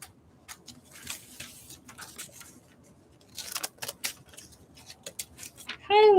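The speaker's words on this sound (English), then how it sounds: "Okay, I like these scissors." Scissors snip through craft paper in a few scattered bursts of short crisp cuts, fairly close and quiet against a hushed room, ending in a louder sharp noise.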